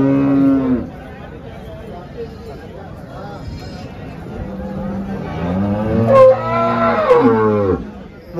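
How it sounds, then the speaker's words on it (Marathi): Jersey and HF dairy cows at a cattle market in Chalisgaon moo in long, loud calls near the end, after a person talks over a background of market chatter. "आता गाई बघा मित्रांनो"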